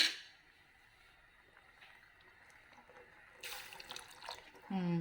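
Water splashes into thick cooking dal for sambar in a pot, a brief close pouring burst over faint room noise.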